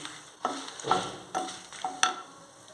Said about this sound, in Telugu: ఈ ఎండుమిర్చి మనం ద్వారగా వేపుదామండి దోరగా వేపుదామండి